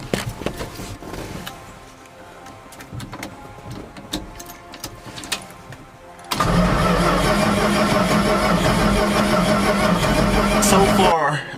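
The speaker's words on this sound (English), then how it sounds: "I'm just gonna prime it with the mechanical fuel pump just to get a start up" Clicks and rustling come first, then a 1972 Dodge D100 pickup, primed through its mechanical fuel pump, cranks and runs loudly and steadily nearby for about five seconds before cutting off abruptly.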